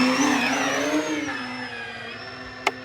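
An E-flite Beechcraft D18 1.5 m RC model plane makes a flying pass, its electric motors giving a steady, loud whine that glides slightly in pitch, with one brief sharp click near the end.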